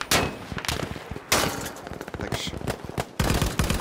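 Battlefield 5 gunfire in a milsim match: loud bursts of rapid automatic shots in several volleys with brief pauses, one heavy opening burst and another near the end, close and dominant.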